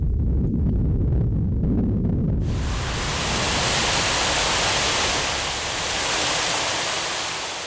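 A waterfall's constant heavy rush of falling water, loud and broadband, swelling in after a quieter low rumble in the first couple of seconds and then holding steady.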